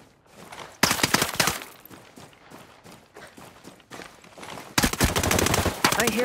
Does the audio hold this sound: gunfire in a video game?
yes